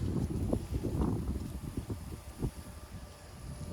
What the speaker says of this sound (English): Sorry, it's a little windy out here.